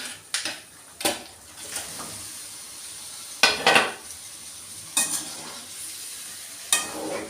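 Chicken sizzles in a pan of masala while a spoon stirs it, a steady frying hiss broken by a few separate scraping, clinking stirs against the pan.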